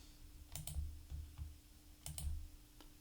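Keystrokes on a computer keyboard while filtering a product list in point-of-sale software: a few light clustered taps in two short bursts over a low steady hum, fairly close and quiet, with no talk.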